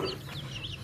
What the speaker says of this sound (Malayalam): കോഴിക്കുഞ്ഞുങ്ങൾ